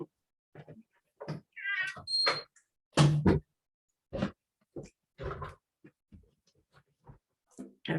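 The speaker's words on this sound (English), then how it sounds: "Gotta make sure my cat's out of the room." A house cat gives a short meow in a quiet room, surrounded by scattered knocks, clicks and brief thumps spaced across several seconds.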